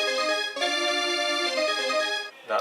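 A synthesized melody for a kart-racing style video game plays in sustained bright tones with rich harmonics, a brief break near the start, then ends with a short falling note; loud and alone.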